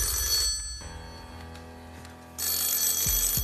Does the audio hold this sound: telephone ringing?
yes